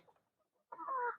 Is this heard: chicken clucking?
yes